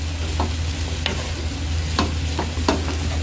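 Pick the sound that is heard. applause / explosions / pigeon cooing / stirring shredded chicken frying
stirring shredded chicken frying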